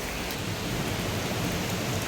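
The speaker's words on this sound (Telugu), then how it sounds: "అది బయట అయితే వర్షం స్టార్ట్ అయింది." Steady rain falls outside a home near the kitchen, a dense, even hiss of drops on surfaces with no break, fairly loud and close, with no talking.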